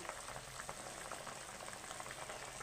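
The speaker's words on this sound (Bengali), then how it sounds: "আমার মাছটা ফুটেছে, আমি একটু কমিয়ে দেবো।" Boal fish curry bubbling in a pan, a steady close hiss of simmering liquid with continuous soft popping and no voices.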